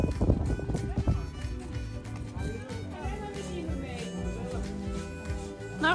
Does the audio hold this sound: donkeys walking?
yes